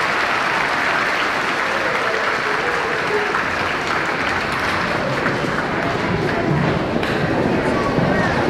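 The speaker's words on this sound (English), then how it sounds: "Let's give another round of applause for Mrs." A crowd at a fifth-grade moving-up ceremony applauds a class, sustained loud clapping filling the hall without a break, with faint cheers and crowd murmur mixed in.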